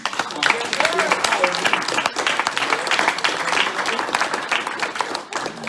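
A live audience claps for two performers at an evening of rap, hip-hop and poetry, steady busy applause filling the room throughout, close and lively.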